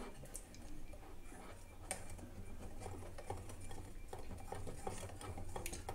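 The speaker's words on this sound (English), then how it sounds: "whisk it properly so that no lump should be there" Oreo cake batter is whisked by hand in a bowl. The sound is a faint, continuous run of rapid ticking and scraping clicks, with no voices.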